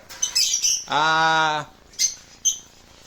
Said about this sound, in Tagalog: Napakaganda ng ibon oh